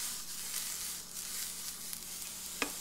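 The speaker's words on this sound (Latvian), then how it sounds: "Man cepās austersēns jau." Oyster mushrooms frying in a pan, with soy sauce added, give a steady close hiss of sizzling fat throughout, rising slightly at moments, with a single sharp tick near the end.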